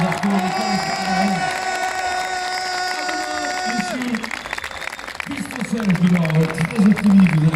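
A crowd in a MotoGP fan zone at Le Mans in 2019 claps and cheers, with a steady wash of applause and whoops behind an announcer speaking over a sound system.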